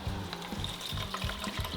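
Water is poured into a bowl of oats, a short gurgling splash with bubbling pulses over a couple of seconds, close by and without talk.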